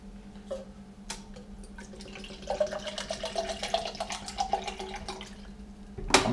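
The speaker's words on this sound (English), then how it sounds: "I'm going to pour it into a cup." Coconut water poured from a container into a cup, a trickling, bubbling liquid stream that builds in the middle and continues steadily before a sharp knock at the end.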